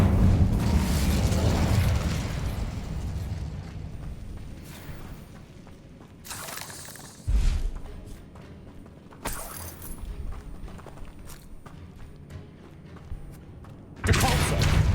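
A fire spell is cast in the Hogwarts Legacy game, with bursts of whooshing flame at about 6.5, 9.5 and 14 seconds over a low rumbling game backdrop and mechanical clatter.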